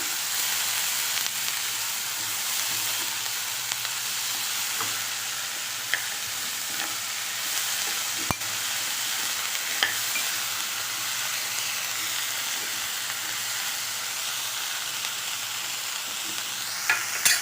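Chopped capsicum mixture sizzles steadily in a kadhai while being stirred, a constant hissing fry with occasional soft spatula knocks and scrapes, close and unbroken by speech.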